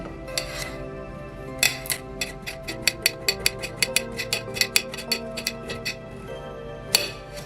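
A knife chops a peeled carrot into small pieces on a cutting board, giving a quick series of sharp, close knocks in an uneven rhythm, with no talking.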